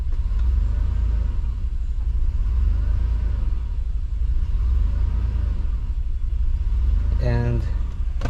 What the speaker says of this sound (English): The idle is surging up and down.